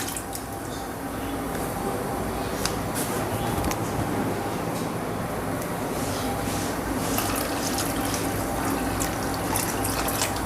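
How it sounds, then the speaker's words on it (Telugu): Water pours continuously into a pot of raw shark fish meat being prepared for cooking, a steady close splashing flow that lasts throughout with faint clinks and no clear talk. "చేప మొత్తం నీళ్ళల్లో డిప్ అయ్యేలాగా ఇంకొన్ని నీళ్ళు పోస్తున్నాను"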